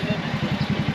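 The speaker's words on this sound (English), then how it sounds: "I said rev the engine, let it make some noise." A motorcycle engine in Antalya, Turkey, idling with a steady pulsing low throb that rises in short rhythmic surges, close and fairly loud, with no voices over it.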